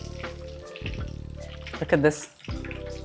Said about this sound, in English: always watch your eggplants while they're deep frying